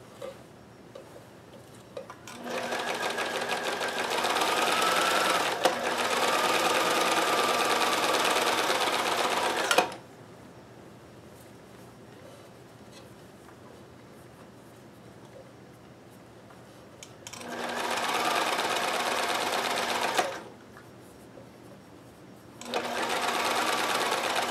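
Singer 431G or Kenmore 158 sewing machine chain stitching in three bursts of rapid mechanical whirring, stopping between runs with quiet gaps.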